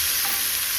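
Fish frying in a pan for an Agri-Koli style fish fry, a brief, loud, dense sizzle held steady at close range with no talk.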